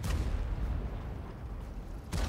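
Tank cannon fire in the World of Tanks Blitz video game, a deep rumbling blast that decays slowly, followed by a second sharp boom near the end, loud and close with no talking.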